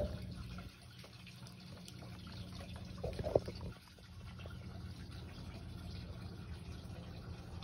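Water poured into containers of silt and sand trickles and drips through the soil, faint and close, with a brief louder splash in the middle.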